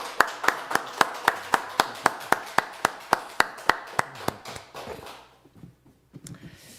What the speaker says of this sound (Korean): 우리가 박수로 윤희선 형제의 첫 방문을 환영하도록 하겠습니다